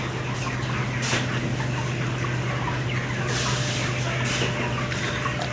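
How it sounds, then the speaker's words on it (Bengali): A crowded shed of broiler chickens on a poultry farm clucks and murmurs steadily while eating feed, a dense, constant flock noise over a low mechanical hum. "পাগলের মতো মুরগি খাওয়া দাওয়া করতেছে"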